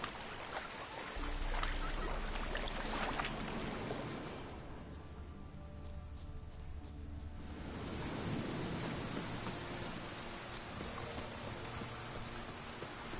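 Steady video game rain hissing across the whole stretch, a dense wash of falling drops that thins briefly in the middle before swelling back, with no voices.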